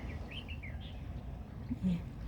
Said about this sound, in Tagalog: Yung mga ibon sa aking paligid. May nagkukurukok, may nagtitweet-tweet-tweet.